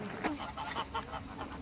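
Geese or similar waterfowl on a walking path give a short series of faint, repeated honking calls, a few bursts at a distance with no talk.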